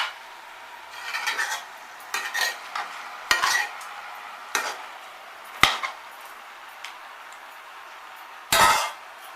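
A spatula scrapes and clinks against a metal wok in irregular strokes, with sharp metallic knocks between softer stirring scrapes and a faint sizzle.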